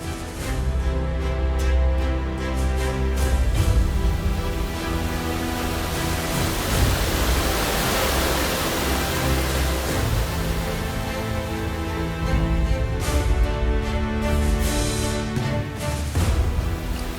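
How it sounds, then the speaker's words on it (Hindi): Aliguna waterfall in Rayagada, Odisha pours in a loud, steady, broadband roar of falling water that holds constant throughout, close and without voices. "सिर्फ अभी ये झरने को एंजॉय करना है।"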